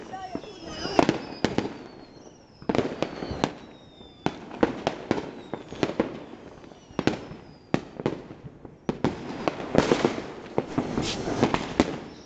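New Year's Eve fireworks burst over a Vietnamese home village in a long run of sharp cracks and booms, some single and some in rapid clusters, with voices faintly underneath.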